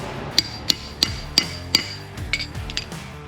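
A hammer drives brake caliper pin seals into a Chevy Silverado rear disc brake caliper, five sharp metallic taps in a steady rhythm followed by a few softer, quicker knocks, close and clear.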